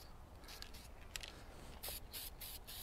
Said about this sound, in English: Bobcat gray paint and just cover up those areas that we just welded on